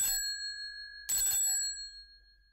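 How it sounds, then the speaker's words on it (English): Two bright metallic rings of a doorbell, each with a lingering tone that fades out, sounding close by against an otherwise quiet background. "she ran across the road and rang Holmes's doorbell"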